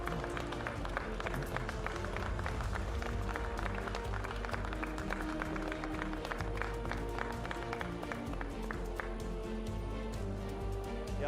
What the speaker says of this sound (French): je crois qu'on peut applaudir ça